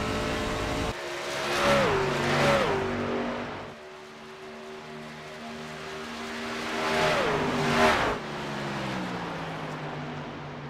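Racing truck engines at Homestead in a sim racing game drone loudly and steadily, with two rising-and-falling pitch sweeps as trucks roar past, and no talking.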